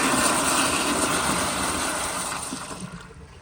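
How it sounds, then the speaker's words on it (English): A 2000 Eljer Signature toilet flushing at full water pressure, a loud close rushing roar that slowly fades as the bowl drains. "But here's another flush on full pressure."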